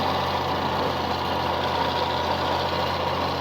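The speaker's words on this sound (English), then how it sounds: "if you hear that tractor, it's been sputtering on me" A tractor engine idles steadily with a low, uneven chugging that hints at sputtering, running continuously at moderate volume without any talk, during hay raking and baling.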